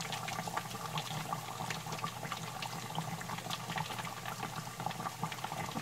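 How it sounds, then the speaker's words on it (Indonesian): Hot oil sizzles and crackles continuously at an even level as a gourami fish deep-fries in a pot, a dense bubbling hiss with no voices. "Kita goreng hingga garing ya."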